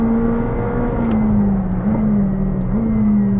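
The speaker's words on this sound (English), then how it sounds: "Listen to the gear shifts." A McLaren 765LT accelerates hard from inside the cabin: a loud, continuous engine drone climbs in pitch, then steps down sharply at each gear shift, with no talking over it.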